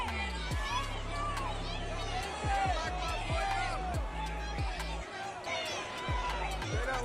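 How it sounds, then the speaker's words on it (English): Large outdoor crowd of thousands, a dense wash of voices, shouts and whistles with chanting and chatter all around, steady and moderately loud. "As you can see, there's a large crowd here."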